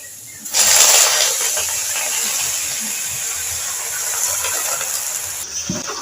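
Washed taro leaves dropped into hot oil with fried onion, garlic and chili, setting off a loud, sudden sizzle that stays as a steady crackling hiss until it cuts off near the end.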